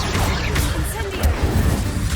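In Hogwarts Legacy, the Incendio fire spell goes off with a bursting whoosh and crackle in the game's sound effects. A voice can be heard over the game sounds during this short burst.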